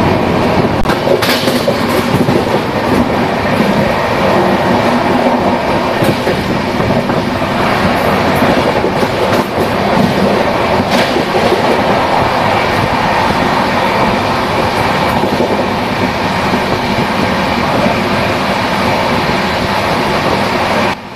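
Inside the Central Railway Rajdhani Express hauled by a WAP 7 electric locomotive, a constant loud rumble of the moving train fills the cabin, with a steady rolling roar and faint clickety-clack throughout and no talk.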